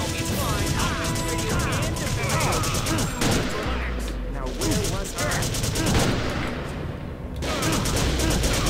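Rapid gunfire from the video game Second Sight, continuous bursts and crackling shots with crashes, loud throughout, with players talking over it.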